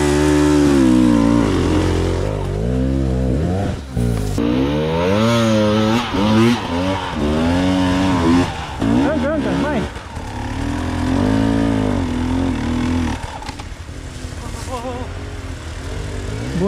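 An enduro motorcycle engine on a forest hill climb revs hard and loud, pitch swooping up and down in repeated bursts while people talk and shout nearby.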